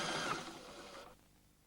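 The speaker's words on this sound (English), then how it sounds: "The MC7000 will stitch back over the same size darn from right to left." A Memory Craft 7000 sewing machine stitches back over a darn in a steady, fairly quiet whir that runs evenly, then cuts off abruptly just past the one-second mark.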